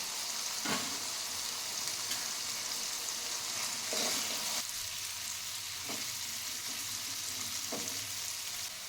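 Vegetable curry with potato, salt, turmeric, cumin and coriander powder and ginger-green chilli paste sizzles steadily in a pan, with a few louder stirring scrapes spaced through the continuous frying hiss.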